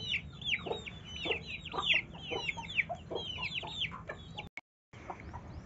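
Several chickens cluck and chatter steadily outdoors in a backyard flock in summer, overlapping calls near and at mid distance, with a brief dropout near the end.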